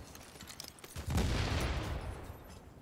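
A grenade bursts against a deployed shield in The Division, a sudden loud, deep, rumbling blast after about a second of quieter crackling gunfire, then a sustained roar that slowly fades.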